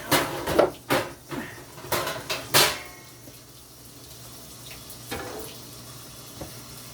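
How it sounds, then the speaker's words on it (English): A big pan comes out in a home kitchen with a quick run of close metallic clanks and knocks, then a quieter stretch with a few light bumps and no talk. "I think I have to get my big pan out."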